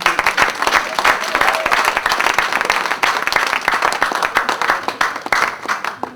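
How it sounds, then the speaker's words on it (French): The congregation at a church wedding applauds loudly and keeps up a dense rhythmic clapping with scattered cheers that continues throughout, filling the room close by. "Acclamons très fort pour le Seigneur."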